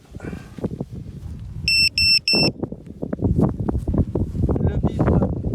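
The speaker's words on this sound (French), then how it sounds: "Le bip est synonyme, on va dire, de décollage." A DJI drone gives three short, bright electronic beeps in quick succession to signal it is ready for takeoff, heard between bursts of nearby talking and handling noise.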